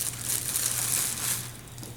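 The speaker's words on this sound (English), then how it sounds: "So there's this plastic bag, so kitties go play with the plastic." Plastic bag crinkled and crushed up close indoors, a steady dense rustling that runs for about two seconds and eases slightly toward the end, with a low hum underneath.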